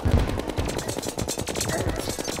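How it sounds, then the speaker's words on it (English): Rapid automatic gunfire from the Minishark in Terraria, a dense stream of sharp repeated shots rattling steadily for a couple of seconds without pause. "I'm just blind firing the mini shark, hoping I get a few hits"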